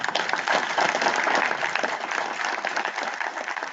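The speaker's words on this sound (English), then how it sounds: "Let's give the candidates a big round of applause for coming out." Audience applause for council candidates at the close of a 4th District candidate forum, dense steady clapping that holds strong and slowly thins near the end.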